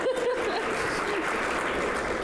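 An audience at a college of public health student awards ceremony gives a short burst of steady applause, a dense patter of clapping with faint murmurs and a brief voice at the start.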